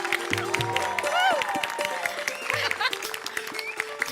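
A studio audience at a Marathi comedy show applauds as a performer comes on stage. The clapping is a broad, continuous patter mixed under tonal music and voices, moderately loud throughout.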